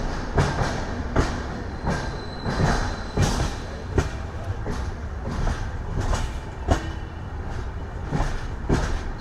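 Train pulling through Rompicherla station, a dense rumble with a regular clickety-clack of wheels over rail joints, loud and close, steady throughout with faint crowd noise beneath.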